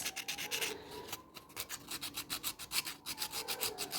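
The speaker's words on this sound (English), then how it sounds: "now I will sand it with sandpaper" A Barbie doll's neck being rubbed with sandpaper, close and fairly quiet, a fast steady back-and-forth rasping rhythm of short strokes with a brief pause near the start; no talking.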